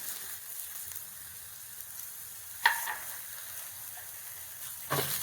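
Onion with curry leaves, ginger and green chilli frying in a pan, a faint steady sizzle throughout with two brief sharper crackles as ingredients hit the oil.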